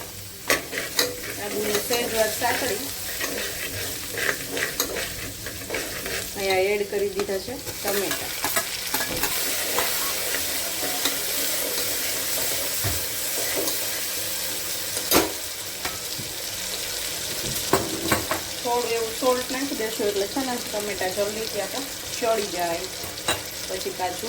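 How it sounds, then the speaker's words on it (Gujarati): Steady sizzling of green chilies frying in hot oil with frequent scraping and stirring clatter from a utensil, loud and close, continuing throughout with no talking. "મરચા સેજ સતળે જાય પછી આદુ નાખી દઈશું"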